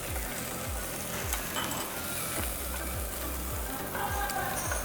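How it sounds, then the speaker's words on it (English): Fatty beef sizzling steadily on a Korean BBQ grill, a dense crackling hiss that stays even and close throughout, with a low rhythmic hum of the restaurant underneath. "the fattiest part goes on first, so it can grease up the grill a little bit"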